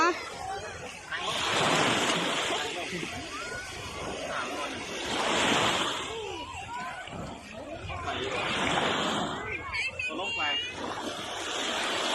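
Sea waves wash in on a beach in rising and falling surges, with wind and people chattering close by throughout.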